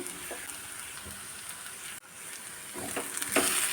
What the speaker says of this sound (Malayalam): ഇനി പൊടികളുടെ പച്ചമണം മാറുന്നത് വരെ നന്നായിട്ടൊന്ന് വഴറ്റിയെടുക്കാം